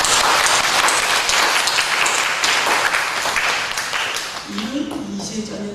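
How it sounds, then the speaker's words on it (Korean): A church congregation clapping in sustained applause, loud and dense, gradually thinning toward the end as a voice begins. "큰 박수 한번 하겠습니다"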